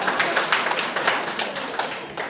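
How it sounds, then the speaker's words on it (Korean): Scattered audience claps ring out during a Buddhist lecture hall talk: a loose, uneven patter of separate hand strikes, moderately close, thinning out toward the end. "저기요, 박수 칠 대목은 아니거든요."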